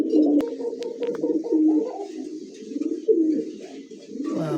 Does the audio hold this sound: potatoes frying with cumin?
no